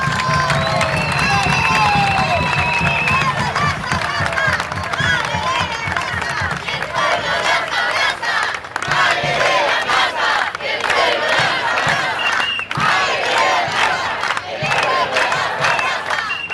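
A large crowd at an outdoor political rally in Argentina honoring the Mothers of Plaza de Mayo roars with loud, sustained cheering, shouts and chanting that swell and dip over several seconds, close and dense.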